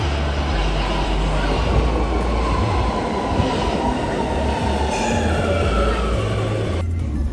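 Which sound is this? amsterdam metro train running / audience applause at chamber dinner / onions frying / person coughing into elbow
amsterdam metro train running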